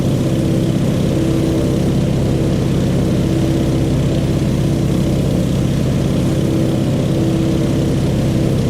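A Stearman open-cockpit biplane in flight, its engine giving a loud, steady, unbroken drone with constant wind rush and no talking.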